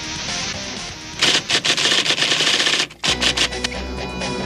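Gunshot sound effects from a 1990s Bally-Williams pinball machine, loud rapid bursts of rattling shots in quick volleys with a brief pause, fairly close and without talk.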